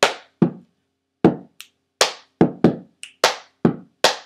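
Sharp, close hand claps and a couple of finger snaps from a wrestling cheer routine, about a dozen crisp hits in an uneven rhythm with silent gaps between them.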